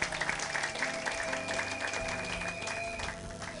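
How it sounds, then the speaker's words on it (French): A church congregation applauds in praise during a worship service, a steady, dense wash of clapping that holds for several seconds while sustained music tones ring underneath. "Acclamez pour la gloire de notre Dieu,"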